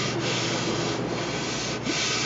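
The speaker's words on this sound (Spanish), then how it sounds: "se ha lijado con la lijadora, lija número 60, 80 y 120, para que quede bien suave la madera" An electric sander works over pine wood for a small bathroom cabinet, giving a steady, close, loud abrasive whir with slight pulses as the pad moves.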